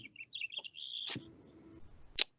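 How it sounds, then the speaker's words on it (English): Birds tweet outside, heard as a few short, faint high chirps and a brief trill in otherwise quiet surroundings. "I hear some birds tweeting there."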